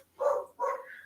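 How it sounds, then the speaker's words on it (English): A dog gives two barks close by, each short and throaty, the second trailing into a higher whine. "There's the dog barking."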